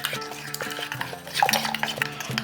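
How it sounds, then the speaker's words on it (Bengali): Yogurt mixed with sugar, ginger paste and gram flour is stirred in a bowl, a spoon scraping and clinking in short irregular strokes, close and fairly quiet, no talking. "এরপরে পুরো জিনিসটাকে মিশিয়ে নিচ্ছি।"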